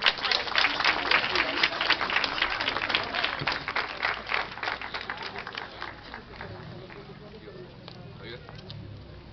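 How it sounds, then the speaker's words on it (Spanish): Crowd clapping during a Catholic procession for Our Lady of Reconciliation in La Molina, dense, rapid applause that gradually thins and fades, with voices mixed in. "¡Aplausos a nuestra Madre!"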